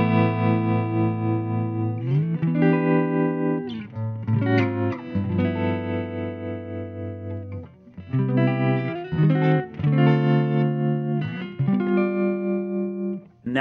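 An electric guitar played through a 1968 Fender Princeton Reverb tube amp with tremolo at maximum intensity and lowest speed, its chords swelling and dipping in slow, deep pulses, loud and close with no talking.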